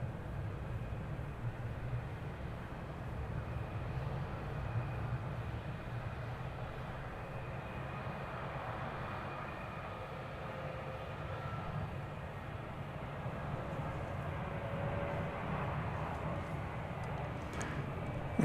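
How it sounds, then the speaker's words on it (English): An Airbus A321 airliner arrives at DFW airport, its jet engines making a steady, broad roar with a faint whine that holds at a constant moderate level throughout, with no voices. "The flight arriving now from Palm Springs in California. An Airbus A321, flight 2673."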